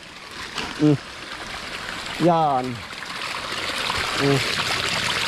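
Strong water rushes in a steady, loud hiss that swells slightly toward the end, with a voice speaking briefly over it.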